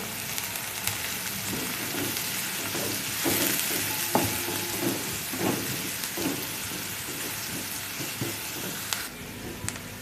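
Curry leaves and onion sizzle in hot oil for a spicy moth bean curry, with a steady frying hiss and light, irregular spoon scrapes and clicks from stirring in the pan.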